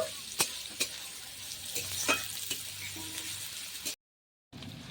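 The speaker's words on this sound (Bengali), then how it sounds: "পেঁয়াজটাকে ভালো করে ভেজে নেবো একটু।" Onion frying in a pan at an outdoor winter picnic: a steady close sizzle with sharp clicks of a spoon stirring against the pan, a short dropout near the end, no talk.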